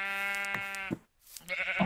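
Sheep bleating in the Minecraft video game, a couple of harmonic bleats up close, then a brief silence and a second rougher burst of bleating.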